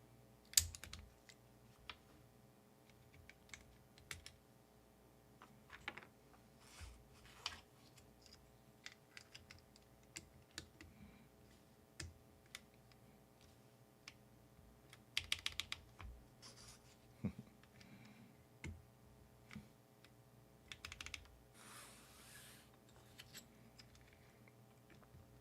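Mechanical keyboard fitted with GMK keycaps being typed on, with irregular bursts of clacky keystrokes close up, some quick runs and pauses between, over a faint steady hum.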